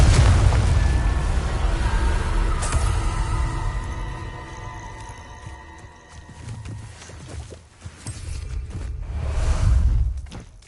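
Spell blasts from Confringo and Incendio in the wizarding game Hogwarts Legacy: a loud fiery burst up front, then rumbling booms and whooshing magical effects that fade and swell again toward the end.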